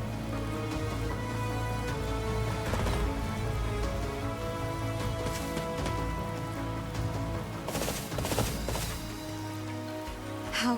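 Steady rain falls throughout a scene in Fire Emblem Three Houses, a continuous hiss with layered droning game music underneath and a few louder swells near the end.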